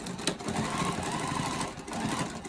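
A sewing machine runs steadily, stitching a snap bag with a fast, even mechanical whir and rapid needle chatter, close and continuous throughout.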